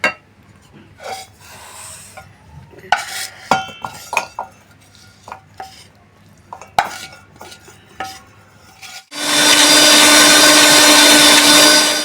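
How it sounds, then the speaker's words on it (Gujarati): Green masala is ground in a mixer grinder; scattered clinks and clatters of jar and utensils come first, then the motor roars in loud and steady for the final few seconds. "હવે આપણે આ લીલો મસાલો ગ્રાઇન્ડ કરીશું."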